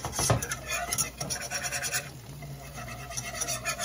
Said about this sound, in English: you're just gonna whisk the flour and the butter